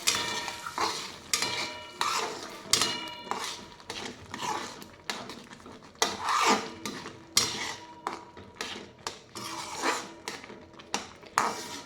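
A spoon scrapes and knocks around a pot as fried semolina is mixed with milk for prasad sheera, with irregular clinks and swishes and a soft sizzle underneath.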